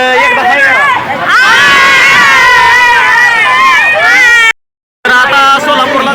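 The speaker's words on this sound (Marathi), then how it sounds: "काही मित्र खूपच गर्दी करतायत बरं का जाण्यासाठी" A crowd gathers at the Tuljapur bus station as buses arrive for the trip to Pandharpur: dense, loud overlapping voices and chatter close by, cut by a short silent gap near the end.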